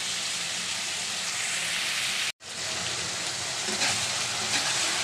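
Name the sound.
bitter gourd frying slowly on medium heat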